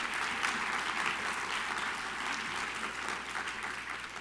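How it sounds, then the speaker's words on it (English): Applause from the audience at a literary award gala honoring young writers: dense, even clapping that fills the room for a few seconds without a break. "let's give one more round of applause for all of these wonderful young writers"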